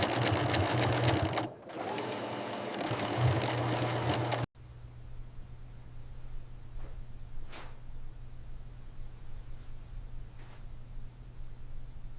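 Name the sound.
automated embroidery machine stitching logos in a bra factory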